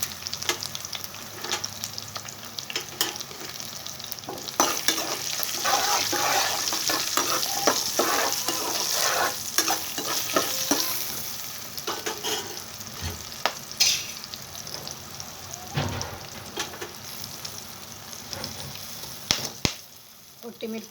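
Dried chillies and curry leaves sizzling and crackling in hot oil for lemon rice, a steady loud fry with frequent spatters and stirring scrapes throughout.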